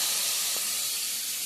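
Ground masala paste sizzles in a pan with fried potatoes and radish, a steady broad hiss that fills the whole moment with no talking over it.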